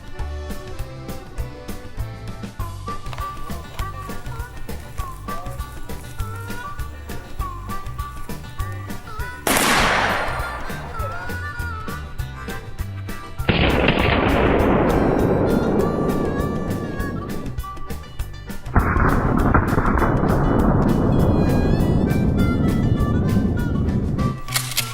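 Shotgun blasts at a pumpkin outdoors, three loud booming shots spaced several seconds apart, each ringing out in a long decaying echo, with a steady background hum and no talking.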